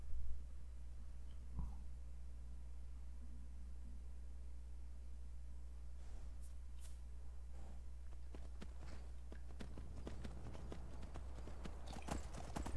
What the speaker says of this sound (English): Okay, so we got ourselves a horse.